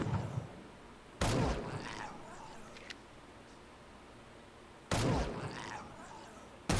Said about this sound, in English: a revolver being fired at a firing range, and I'm actually hearing it hit the metal target